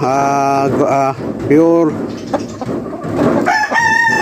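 A three-year-old pure lemon guapo broodcock crows loudly at close range, letting out several strained, rising calls with clucking and farmyard noise between them.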